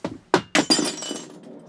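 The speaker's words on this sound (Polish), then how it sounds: "Aż szklanka nie wytrzymała napięcia, ale pierdolnęła." A drinking glass breaking: a sharp crack followed by a quick burst of shattering and a couple of smaller clinking fragments, loud and close with no voices.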